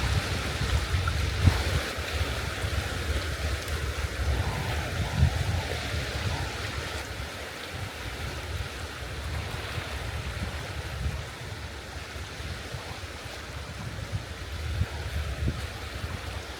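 Sea water along the Baltic coast near the Veczemju cliffs, a continuous broadband wash of surf and lapping water with a low rumbling undertone, steady and moderately loud throughout.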